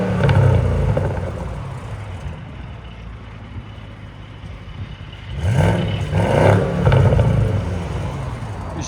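A modified German V8 engine with its exhaust valves open, rumbling loudly up close before being revved twice in quick succession, the pitch rising and falling with each blip before settling back to a deep idle.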